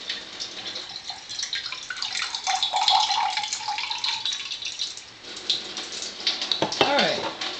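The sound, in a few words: pouring Kangen water from Enagic SD 501 water ionizer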